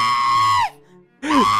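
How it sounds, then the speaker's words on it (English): A woman lets out two loud, piercing screams at close range, a long sustained shriek that falls off, a brief silence, then a second rising cry. "Just stop screaming."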